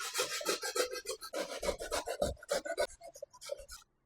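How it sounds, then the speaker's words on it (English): Fresh coconut grated by hand on a grater, producing close, rhythmic rasping strokes that repeat quickly and then stop. "Now I am going to break 1 coconut and grate it."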